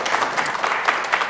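An audience applauds at a planning commission public hearing, dense close clapping with sharp hand claps standing out, loud and continuous for a brief moment.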